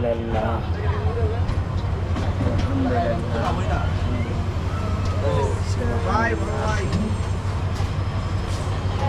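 Inside an intercity express train carriage in Bangladesh, travelling from Rangpur to Gaibandha: a steady low rumble of the moving train runs throughout, with people talking over it.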